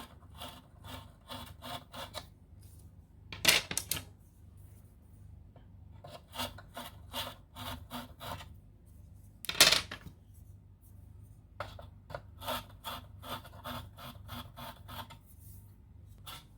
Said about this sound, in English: The final step of our cutting process is to deburr the edges